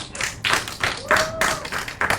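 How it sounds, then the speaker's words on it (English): Scattered clapping from a meetup audience for two junior developers, light uneven claps at close range, with a voice faintly heard underneath. "Now I suggest to give a huge applause to two of our junior developers"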